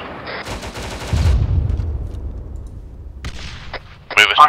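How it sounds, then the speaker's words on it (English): Gunfire in the military game ARMA 3: a dense spell of shots and booms opens the stretch, then lower rumbling fire trails off, and sharper bursts return near the end, mixed with radio-style voices. "We're putting fire down right now."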